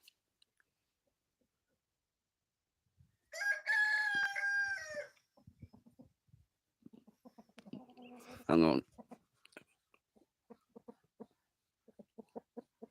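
A chicken being pushed into a box clucks and squawks in short, harsh bursts, one loud crowing cry standing out, followed by scattered scuffling and soft clucks nearby, with a person briefly speaking.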